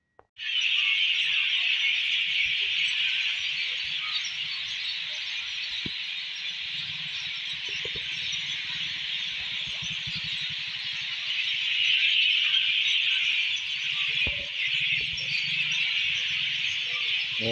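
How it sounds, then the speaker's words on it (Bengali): Dense, continuous high-pitched chirping and calling from many birds fills the air, steady throughout with a slight swell near the end, with no talking. "পাখিদের ডাক শুনুন"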